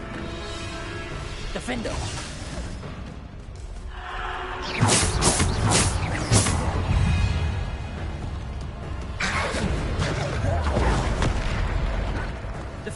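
A Bombarda explosion spell in Hogwarts Legacy: a speaking voice, then a sudden burst of blasts and crashing debris, with another heavy rumbling impact later, all amid ongoing battle noise.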